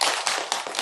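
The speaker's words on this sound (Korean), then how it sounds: "박수 치려면 확실하게 한 번 더 치세요" Dense applause from a crowd of about thirty people back from a temple tour of Japan, clapping rapidly and steadily in a short, loud burst.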